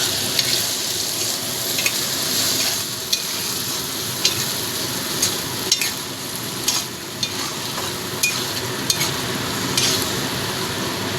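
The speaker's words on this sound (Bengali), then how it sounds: "এবার আমি এর মধ্যে দিয়ে দিচ্ছি সর্ষে পোস্ত লঙ্কার পেস্টটা" A mustard, poppy seed and chili paste hits tomatoes and okra frying in a pan, giving a continuous close sizzle broken by scattered scraping stirs and clicks of a spoon.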